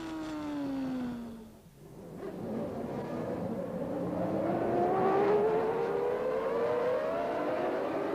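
Formula 1 cars from the 1993 season, a McLaren and a Ferrari racing wheel to wheel, engines screaming in rising high-pitched whines that sweep upward as they accelerate past, loud and continuous.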